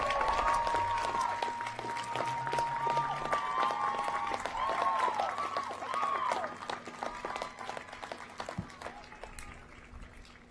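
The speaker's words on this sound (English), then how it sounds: "give a big round of applause to everyone who supported you along the road to becoming" Graduates at a college graduation ceremony applaud their supporters, sustained crowd clapping with a bright whistling or tonal sound riding over it early on, then easing somewhat toward the end.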